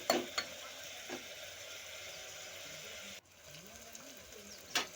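Cabbage pulao with potato frying in a pan gives a soft steady sizzle, with a few sharp stirring scrapes and clinks near the start and end, and faint murmuring in the background.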